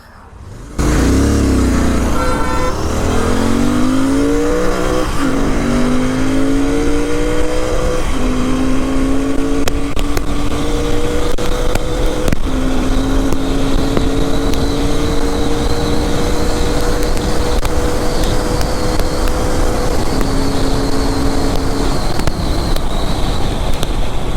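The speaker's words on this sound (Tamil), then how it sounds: "சின்னதாக ஒரு டாப் அண்ட் ஓடிட்டு எக்ஸாஸ்ட் நோட்டு அப்படியே கேட்டலாம்" A Royal Enfield GT 650 motorcycle engine revs up and holds, its exhaust note rising in steady pitch steps, loud and close, with a continuous roar and no talking.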